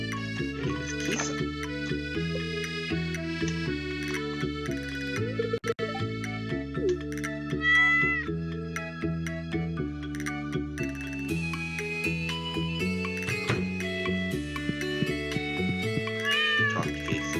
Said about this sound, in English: I do think this farm could use a good cat.